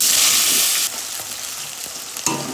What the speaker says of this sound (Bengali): ওই তেলের মধ্যে আলুগুলো ভেজে নেব।